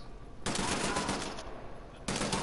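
Gunfire in the video game Wolfenstein: The New Order, heard as loud, sustained automatic bursts: one long burst, a short break, then another starting just before the end.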